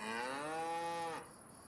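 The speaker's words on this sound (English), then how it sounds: "My calf is stuck in the map." A cow calf in a farming video game gives one sustained, loud, close moo lasting about a second before cutting off to faint background.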